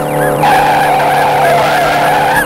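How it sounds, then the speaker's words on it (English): A toy car skids to a hard stop with a long, loud, wavering tire squeal, close and alone, swelling in at the start and running on for over two seconds. "To do this, I'll slam on my brakes."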